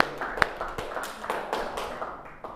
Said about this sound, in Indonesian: Tepuk tangan untuk kelompok Sitor Sitomurang ya.